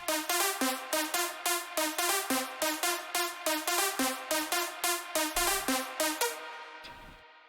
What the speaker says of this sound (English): And then I've used another synth layer to give it a bit more feel